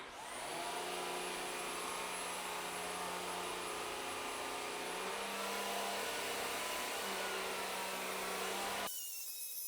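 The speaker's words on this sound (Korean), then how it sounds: "원래 제가 쓰던 샤크 청소기 IQ 플러스 밀어보도록 하겠습니다" A Shark IQ Plus cordless vacuum runs steadily over long hair on the floor, a loud continuous motor whine with a high tone and brush hum, cutting off abruptly near the end.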